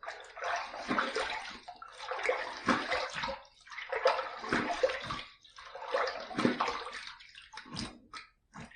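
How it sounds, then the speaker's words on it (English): Cold water splashed onto a face after a shave, rhythmic bursts of splashing and running water, each handful about a second long, close and alone. "I am going to do a cold water rinse."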